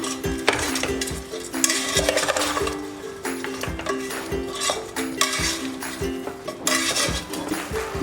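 Green chillies and salt being stirred in a pan while cooking mutton biryani, with repeated clinks and scrapes of a spoon against the metal pan and a light sizzle underneath, close and steady.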